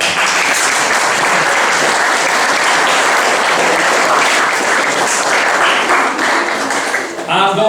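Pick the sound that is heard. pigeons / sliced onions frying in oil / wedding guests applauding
wedding guests applauding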